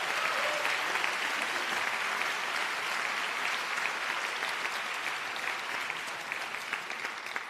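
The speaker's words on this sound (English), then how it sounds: "Donc peut-être un petit round d'applaudissements pour les professeurs." Steady, dense audience applause at a College of Europe closing ceremony in Bruges, sustained and fairly loud for several seconds, honoring the visiting professors.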